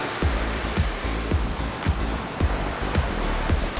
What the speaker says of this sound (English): Wow, that's a waterfall.